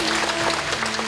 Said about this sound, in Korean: 네, 박수 보내주십니다.